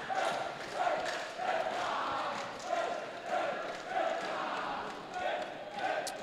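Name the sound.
Prince Edward School crowd cheering at basketball game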